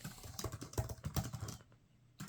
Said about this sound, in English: So this one is easy to type on